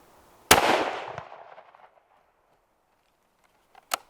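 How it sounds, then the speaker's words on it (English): A rifle fired from a shooting bench with bags at an outdoor range cracks once sharply and loudly, its echo rolling away over more than a second, followed later by a shorter, quieter crack. "I'm going to shoot 3 more shots from the bench."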